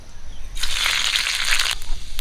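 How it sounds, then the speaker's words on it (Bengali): Panch phoron spices hit hot mustard oil in a kadai for village-style cooking, bursting into a loud, steady sizzle that lasts just over a second and then cuts off. "ফোড়নের জন্য দিয়ে দিচ্ছি পাঁচ ফোড়ন"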